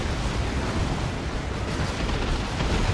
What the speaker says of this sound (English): It's a lot of fire.